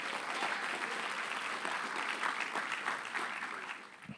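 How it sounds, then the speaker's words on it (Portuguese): A congregation at a Portuguese-language sermon applauds in a sustained, even burst of clapping at moderate distance, tapering slightly near the end, with no speech. "Aplauda o Senhor Jesus"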